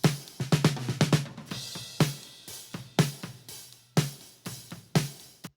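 Snare drum heard through its top microphone, crisp cracking hits in a steady groove with a few quick fills, each strike sharp and close with short ringing decay, played alone.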